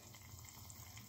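Water pours steadily into an instant ramen cup, a soft continuous gush with a low rumble that stays even and close for the whole moment, no voices over it.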